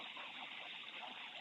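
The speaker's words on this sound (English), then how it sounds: "Hopefully the water's not too loud in the speaker on this." A creek flows steadily beside a bush campsite in New South Wales, producing a constant, close rushing wash with no clear breaks and no voices.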